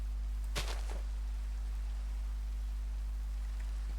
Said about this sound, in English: Oh, there's the rain back.